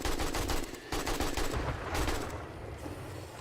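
Rapid sustained gunfire from the zombie survival game 7 Days to Die, dense bursts of shots firing continuously at attacking zombies, loud and close with no speech.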